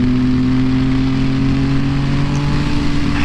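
Steady engine hum of a 2014 Yamaha FZ-09 motorcycle under throttle while riding, close and continuous with a sustained tone, no talking.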